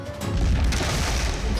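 Ship cannons firing in a pirate naval battle in the Swords and Sandals Pirates game, a dense rumbling boom that swells after a brief lead-in and holds loud for over a second with no talk.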